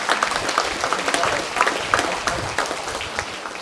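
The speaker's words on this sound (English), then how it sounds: "Please give them a big round of applause." Applause from a hall of fame ceremony audience honoring a top-ranked women's soccer program, a steady patter of claps heard throughout, with some crowd murmur.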